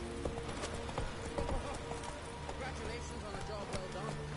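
Roach the horse in The Witcher 3 moves along with steady clip-clopping hooves and a brief whinny, set against game music and ambience, with a voice talking over it.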